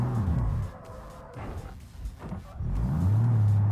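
A big truck with a dented hood revs its engine in a driving video game, a loud low rumble that swells, drops away in the middle, then climbs back to a steady heavy roar.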